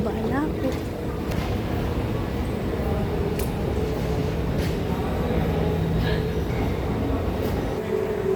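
A metro train rumbles steadily with broadband mechanical roar throughout, a brief rising whine near the start, and voices faintly mixed in.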